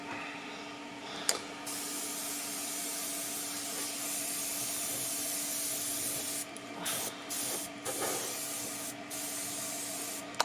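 An airbrush sprays paint onto a Plasticville model house, making a steady, close hiss that runs throughout with a few brief breaks and stutters near the end.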